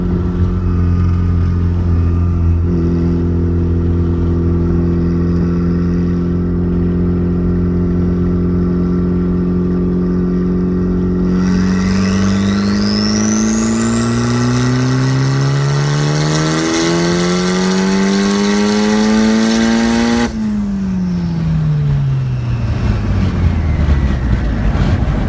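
A Mazdaspeed 3 idles and then accelerates hard through third gear, its loud engine note climbing steadily before the throttle lifts and the revs fall away.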